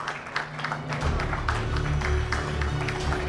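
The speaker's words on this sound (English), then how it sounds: "calls for a round of applause" An audience at an automotive industry conference breaks into scattered applause, clapping building into a steady patter over a low hum.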